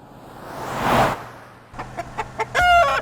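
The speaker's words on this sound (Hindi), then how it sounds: "अरे मुर्गे बॉस, तू अकेला इन सब के बीच इतनी सारी मुर्गियों को कैसे संभालता है?" Rooster and hens on a farm: a soft rustle first, then a run of short clucks ending in a loud, close call from the rooster.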